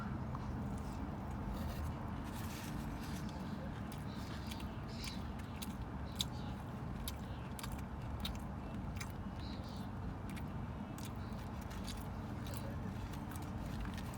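Someone chews a Popeyes fried chicken sandwich close to the microphone, with soft repeated bites and crunches over a steady, noisy background hum.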